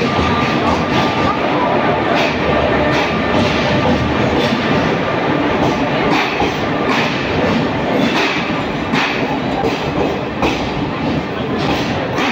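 A train overtakes the Guntur-Rayagada Express, a loud, continuous rumble with rhythmic clattering and thumps of wheels on rail joints, heard close from inside the moving carriage.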